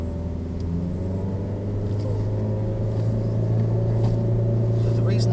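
Car engine revving hard and strained while the clutch is still held in, during a driving lesson; a steady, loud low drone that climbs slightly in pitch over several seconds, with a voice talking over it.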